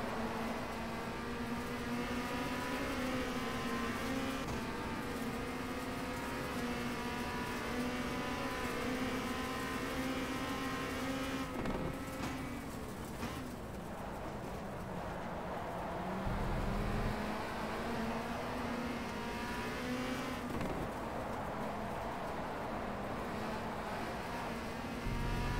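Race car engines in RACE: The Official WTCC Game, a Chevy among them on the Brno circuit, drone steadily and loudly for the whole stretch, with pitch sweeps as the cars shift and lift through corners.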